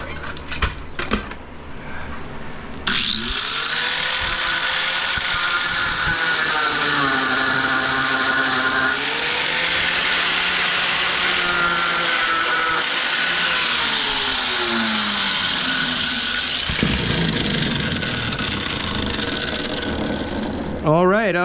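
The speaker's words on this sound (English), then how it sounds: "Maybe we can hit them with a grinder." A small angle grinder cuts into paper-wrapped copper transformer ballasts from parking lot lights, starting after a few seconds with a loud, steady high whine that dips in pitch under load for about fourteen seconds, then trails off into rasping.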